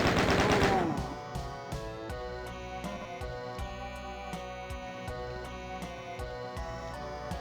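Chaingunner fire in the PS5 game DOOM Zero, a rapid steady burst of repeated gunshots with a fast even rhythm over game music, following a louder opening blast, no talk.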